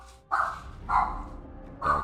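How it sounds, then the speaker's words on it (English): Dog barking three times in quick succession, fairly loud and nearby, each bark a short harsh burst with a brief gap between, no talking over it. "Dog's just left my room barking."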